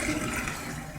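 Filtered water pouring from a home water filter in a steady, soft splashing stream, brief and fairly quiet.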